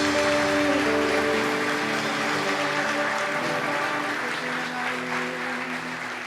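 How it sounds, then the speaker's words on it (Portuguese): Church congregation applauding loudly at the close of a service, a dense continuous clapping wash over lingering sustained organ or keyboard tones. "Aplauda o Senhor Jesus bem forte, igreja."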